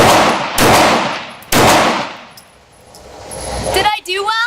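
Gunshots at a shooting range target, two loud, close, sharp reports about a second apart, each followed by a ringing decay, then a quieter stretch ending in a short burst of noise.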